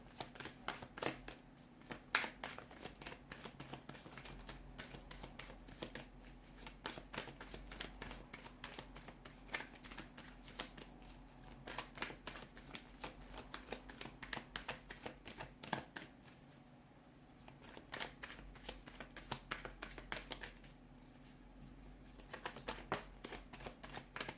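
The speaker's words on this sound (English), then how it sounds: "let's give the cards a shuffle" Tarot cards being shuffled repeatedly, a steady riffling and flicking that runs throughout at close range with a low hum underneath and brief pauses.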